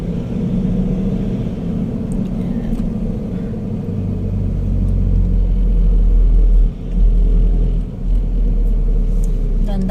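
Heavy road traffic rumbles past, with cars and engines droning low and steady and swelling as vehicles pass close, while people talk over it.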